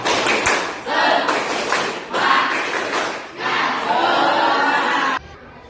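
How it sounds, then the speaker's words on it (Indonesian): A school class claps in a fast rhythmic pattern, loud and close, with several bursts separated by short pauses, voices chanting along. "Oke, tepuk semangat."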